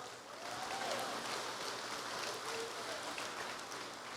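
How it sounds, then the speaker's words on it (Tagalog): A congregation clapping together during a church service, a sustained, even wash of applause heard from a moderate distance. "Lahat ng apo ni Abraham pumalakpak."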